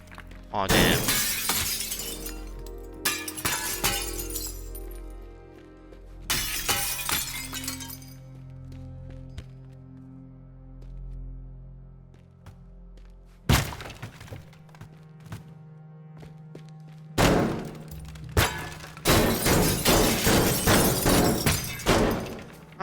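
Glass smashing in the game Teardown comes in several loud bursts of shattering and tinkling shards, separated by quieter stretches of low rumble and thuds, with no talk.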